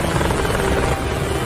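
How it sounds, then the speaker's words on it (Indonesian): Helicopter in a film action scene, a steady close rotor thrum and engine whine filling the whole stretch, loud and continuous, fading slightly at the very end. "ia menghampiri helikopter yang dinaiki oleh Cole Davenport"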